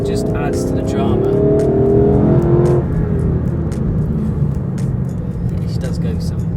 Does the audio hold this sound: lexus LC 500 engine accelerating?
yes